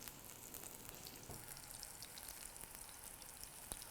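A chicken burger patty sizzles in a very hot pan, a faint, steady crackling fry with no voices.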